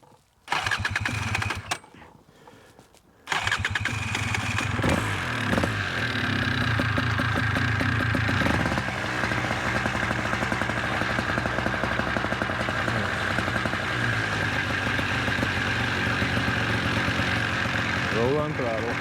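A light aircraft's propeller engine briefly cranks, catches and then roars into a steady loud idle close by, with a short silence before it fires.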